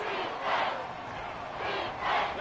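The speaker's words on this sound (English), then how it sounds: "This crowd turning up the decibel level." A football stadium crowd cheers loudly during a game, the roar swelling in three distinct waves over a steady background din.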